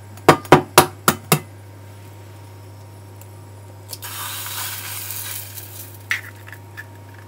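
Several sharp clinks and taps open, then a loud sizzle of an egg frying in a hot pan, ending with a few light clicks.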